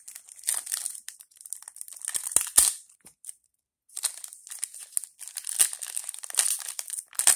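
A Flesh and Blood trading card booster pack is torn open and handled, giving close, crisp crinkling and ripping foil sounds in irregular bursts with a brief quiet gap.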